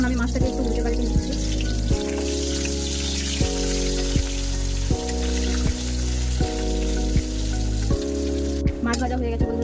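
Pieces of rohu fish fry in hot oil in a pan and are turned over. A steady, close sizzle with occasional stirring scrapes plays under background music.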